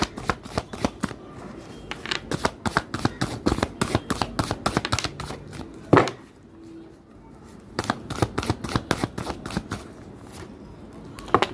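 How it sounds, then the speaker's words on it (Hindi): Cards shuffled close up for a tarot-style reading, rapid riffling bursts in quick rhythmic runs, a brief pause near the middle before shuffling resumes, with faint voice in the background. "चलिए कार्ड मैं आपके सामने यहाँ पे मिक्स करूंगी"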